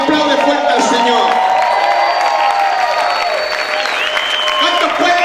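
A church congregation shouts and applauds loudly during a worship service, the clapping steady throughout and layered with raised, tonal voices calling out.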